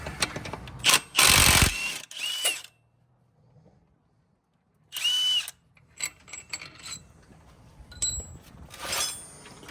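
Power tool, likely an impact driver, removing motorcycle clutch bolts in a fab shop, several loud close bursts of whirring and rattling separated by quiet gaps, with metallic clinks between.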